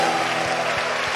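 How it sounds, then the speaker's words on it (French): A church congregation at an Easter seminar claps along, a dense wash of hands with a few sharper beats, heard at moderate distance. "Applaudissez le Seigneur Jésus."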